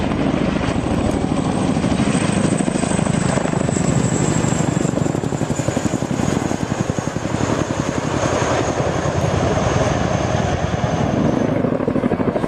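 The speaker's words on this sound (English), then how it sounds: "formation flying in helicopters" Military helicopters flying in formation at a display make a loud, continuous rotor chop that stays steady throughout, with a thin turbine whine sliding slowly downward above it.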